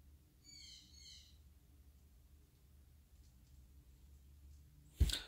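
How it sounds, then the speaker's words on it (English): A pet parrot gives a short run of repeated high, warbling calls, fairly distant in a quiet room with low background hum, followed later by a single sharp close click or knock. "That's my parrot calling me."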